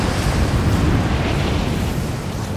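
Strong wind roars across a snowy mountain summit in Rise of the Tomb Raider, a loud, dense, continuous gusting rush that fills the whole moment without pause.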